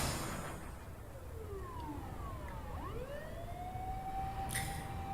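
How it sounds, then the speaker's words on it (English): Sirens from ambulances and police cars in the video game 428 Shibuya Scramble wail and sweep in pitch from a main road, several overlapping tones rising and falling over a quiet steady background. "Achi could hear ambulance and police sirens wailing on the main road."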